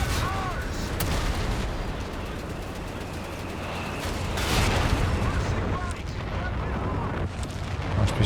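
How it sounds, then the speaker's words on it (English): An artillery strike in the wartime strategy game Company of Heroes 3: a steady roar of battle with repeated heavy booming impacts and scattered gunfire, building to a louder swell midway, with a commentator talking throughout. "Drops the artillery."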